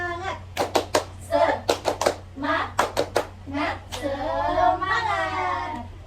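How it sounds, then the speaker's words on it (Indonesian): Schoolchildren in a classroom do a spirit clap with their hands, a burst of sharp rhythmic claps in quick groups, followed by a teacher's voice and the children calling out together. "Ayo kita tepuk semangat ya."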